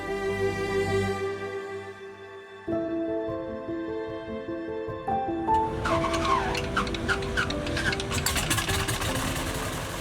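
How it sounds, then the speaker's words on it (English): A tailwheel airplane's piston engine runs while taxiing down the taxiway toward takeoff: a steady harmonic drone that steps up in power twice, growing louder and rougher with a broad roar by the end. "The engine has started. We're going down the taxiway to number 1 for takeoff."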